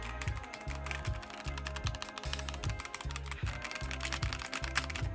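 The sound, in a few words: typing on computer keyboard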